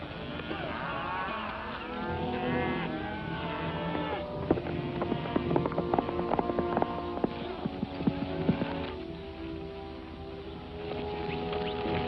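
Cattle being unloaded in an old Western film, low moos and bellowing mixed with clip-clopping hooves and general livestock commotion, moderately loud throughout with no talking.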